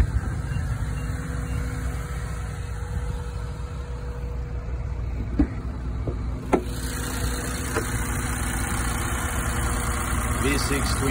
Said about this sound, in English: V6 twin turbo